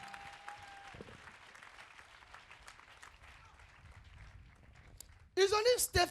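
A church congregation at a Sunday service breaks into applause near the end, loud bursts of clapping and voices following quieter ambient murmur and a brief tone.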